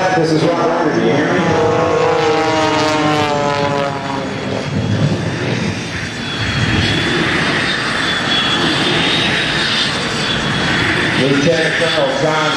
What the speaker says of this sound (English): Lieutenant Colonel John Klatt now, working that Air Guard Staudacher S-300D, putting it through its spacing, inverting right off the deck